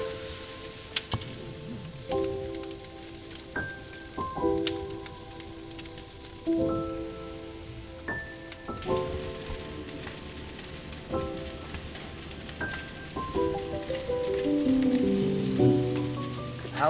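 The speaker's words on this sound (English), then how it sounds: "Let's just enjoy the sound of that steak sizzling." Meat sizzles on a grill with a steady, crackling hiss, while faint tonal sounds drift over it.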